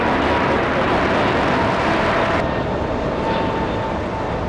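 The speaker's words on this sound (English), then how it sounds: "American Airlines heading to Philadelphia" An American Airlines airliner departing LAX bound for Philadelphia, its engines giving a steady, loud broadband roar that fills the whole clip without letup.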